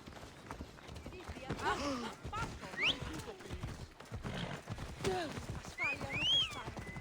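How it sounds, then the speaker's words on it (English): Hooves clop at a trot beneath someone talking in Assassin's Creed Odyssey, with whooshing game effects and a few rising whistle-like tones scattered through. "I got my own horse."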